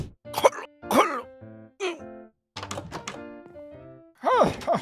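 A voice imitates repeated coughing, as from someone sick with the flu, in short harsh voiced bursts, several in a row with brief pauses between them, close and fairly loud.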